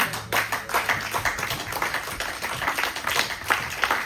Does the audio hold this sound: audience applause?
yes